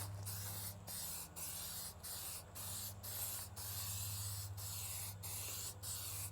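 Waterproofing coat sprayed from an aerosol onto a tent, a steady close hiss broken into a dozen short bursts with brief gaps, over a low constant hum, with no talking.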